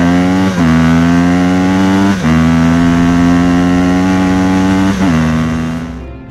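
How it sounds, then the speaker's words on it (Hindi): A cartoon motorcycle revs loudly as it arrives, a steady buzzing engine tone with three sharp throttle blips dipping and rising in pitch, fading slightly at the very end. "तभी बाबा और बुल्ली बाइक लेकर वहाँ पर पहुँचते हैं।"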